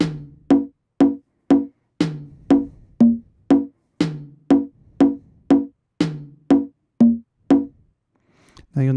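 Conga drums played back in a sequence, about sixteen evenly spaced, sharp hand-drum hits with short ringing tones in a steady groove, close and clear, then stopping.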